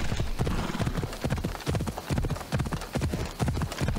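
A horse's hooves clip-clop in a steady, close rhythm while riding in Assassin's Creed Odyssey, with occasional snorts and game sounds mixed in.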